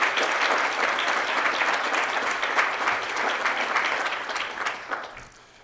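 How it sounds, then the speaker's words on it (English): An awards ceremony audience applauds in a sustained, dense burst of clapping that carries on for several seconds before tapering off near the end, with no speech over it. "let's have a final large round of applause for these two girls."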